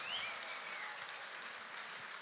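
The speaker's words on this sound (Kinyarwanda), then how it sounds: "Amashyi menshi cyane" A church congregation claps together in steady, continuous applause, a dense, even wash of hand claps that stays at one level throughout with no speech.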